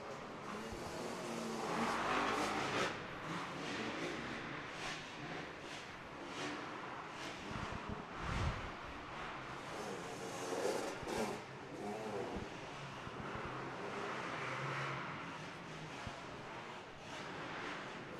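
Race cars lapping an indoor dirt track during an Open D heat race at the Route 62 Indoor Series, a steady engine drone rising and falling, distant and fairly faint.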